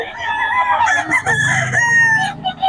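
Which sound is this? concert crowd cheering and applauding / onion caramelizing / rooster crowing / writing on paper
rooster crowing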